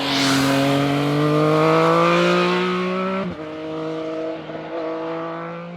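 A 2018 Triumph Speed Triple three-cylinder motorcycle engine revs loudly and steadily climbs in pitch, drops off sharply, then settles into a strong, even drone with small blips.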